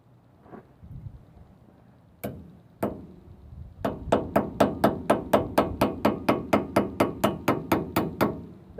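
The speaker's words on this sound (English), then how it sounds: "And just using the hammer on the side, there's not really much whacking room." Steady metal hammer blows ring out on Dana 60 front brake parts, a few spaced strikes and then a fast, even run of about fifteen sharp hits, close and loud.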